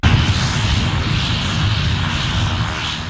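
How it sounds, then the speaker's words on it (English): A small Pilots for Christ aircraft touching down on the runway at Monroeville on a sunny afternoon, its engine drone steady and fairly loud throughout with a broad rushing noise and no talking. "The Pilots for Christ aircraft touches down on the runway in Monroeville on a sunny afternoon."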